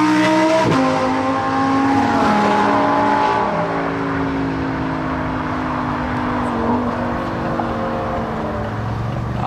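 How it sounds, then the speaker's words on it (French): An Aston Martin DB4 GT accelerating at the Gumball 3000 rally in Calais, its engine revving loud and near with rising, shifting pitch, rumbling on steadily throughout. "Ah, Aston Martin DB4 GT"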